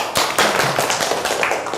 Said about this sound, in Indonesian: beri tepuk tangan juga untuk kelompok kupu-kupu